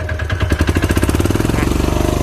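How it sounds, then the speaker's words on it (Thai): A small one-cylinder diesel engine on a Hanix H05 mini excavator revs up close, settling into a steady rapid chugging throb with a rough mechanical rattle. "เร่งเครื่องหน่อย"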